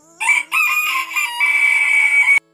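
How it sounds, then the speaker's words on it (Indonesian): Free-range village chickens, kept for laying eggs, crow loudly and close by in a long drawn-out call, with a short cluck at the start and a brief cut-off at the end. "ayam-ayam yang kita pelihara ini bisa bertelur secara"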